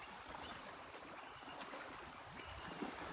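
Ocean waves heard faintly outdoors in the morning, a steady low wash and hiss with no clear breaks or other distinct sounds.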